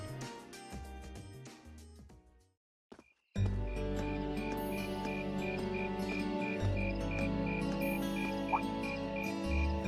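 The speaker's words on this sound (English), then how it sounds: "Insects, huh? Well, it is fall, I guess." A dense chorus of night insects chirps steadily in Trails of Cold Steel, a continuous trill with some pulsing calls, after a brief silence.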